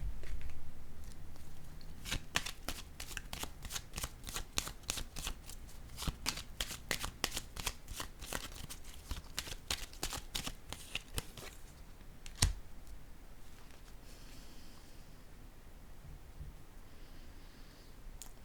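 Tarot cards being shuffled by hand in a long run of rapid, crisp riffling bursts, close and fairly quiet, with pauses and no speech.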